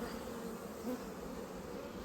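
Honey bees on a full brood frame from a wild swarm hive, including newly emerged bees, make a steady, dense buzzing drone close by, continuous and even throughout with no voices.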